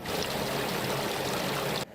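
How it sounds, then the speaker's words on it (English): Rainwater rushes and gushes into a street storm drain during a downpour, a dense, steady broadband wash heard close and loud, cutting off abruptly at the end. "Water flowing and gushing into storm drains as rain continued to fall"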